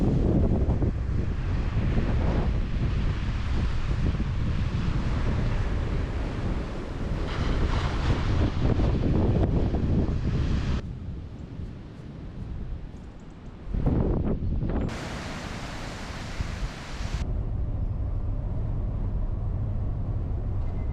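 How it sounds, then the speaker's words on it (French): Strong wind buffets a microphone on the Brittany coast in autumn, a loud continuous rushing roar with gusts that swell and ease, briefly dropping to a softer hiss before surging again. "c'est le vent qui refroidit"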